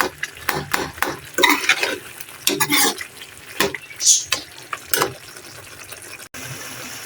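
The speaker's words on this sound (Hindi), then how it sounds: "टमाटर के छिलके हटाने के बाद मैंने इसे भूनना स्टार्ट कर दिया और इसको मैं कवर नहीं करूंगी" Mashed tomatoes for chicken karahi fry in a pan with a wet, bubbling sizzle, broken by repeated ladle scrapes and knocks against the metal; close and fairly loud, with no voices.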